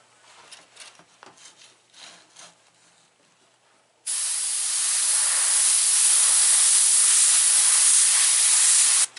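Quiet light rubbing, then an airbrush bursts into a loud, steady hiss of spraying paint that holds for about five seconds before cutting off.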